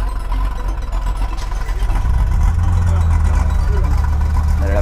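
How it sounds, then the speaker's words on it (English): A Ferrari F40 starting up outdoors at a car gathering, its engine rising into a loud, deep steady rumble after a brief busy lead-in, with voices talking nearby. "And an F40 just started up."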